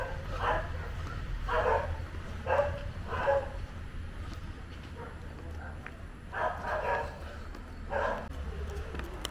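A dog barks in short repeated bursts, moderately close, during a beach walk in Bentota, with faint background ambience between barks.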